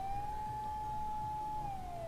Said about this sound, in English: a shrill siren shatters the night